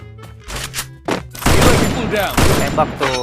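Rapid bursts of gunfire in a squad-based battle royale video game tournament match, loud sustained volleys with booming impacts, mixed with bits of player chatter.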